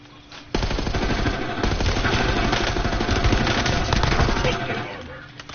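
Sustained automatic gunfire in the Call of Duty video game, played on PS4: a dense, loud rattle of rapid shots that starts abruptly and rolls on without pause.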